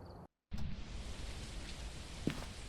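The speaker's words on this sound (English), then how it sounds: "It doesn't sound like heavy rain. It's light rain, that's okay." Light rain falls in the horror video game Phasmophobia, a soft steady hiss after a short silent gap, with one faint brief tick near the end.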